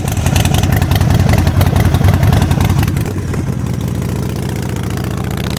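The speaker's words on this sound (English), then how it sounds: "just to show you what this old girl sounds like" A Harley-Davidson Sportster Forty-Eight with a 1200cc Evolution engine, stage 1 intake and short exhaust, idles loud and close with a steady, loping rumble that eases slightly partway through.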